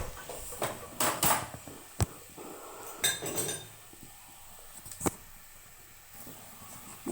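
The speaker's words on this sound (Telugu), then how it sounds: "కూరగాయలు బాగా మిక్స్ చేసుకోవాలండి." A metal spoon clinks and scrapes against a pot while vegetables are stirred for vegetable pulao, with sharp knocks and clatters at irregular intervals over soft background noise.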